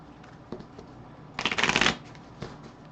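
Playing cards from the Port Royal card game being shuffled by hand, a close, quick riffle of about half a second with a few soft taps and handling sounds before and after, in a quiet room.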